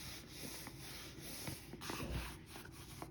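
Crinkly, high-shine fabric of a Bounce Design Labs Dapper Satchel sling bag being rubbed and handled, a faint close-up rustling hiss that runs steadily throughout with no voices.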